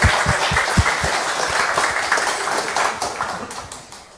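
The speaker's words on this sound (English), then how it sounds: "Please give applause for us." An indoor audience at an Indonesian health logistics and emergency preparedness event applauds steadily, a dense crowd of clapping with a few sharper individual claps, tapering slightly toward the end.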